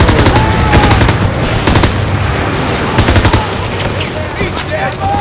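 A half-track's mounted machine gun firing in Call of Duty: WWII, loud rapid bursts of automatic fire layered with other gunshots and battlefield clatter, with shouted voices mixed in.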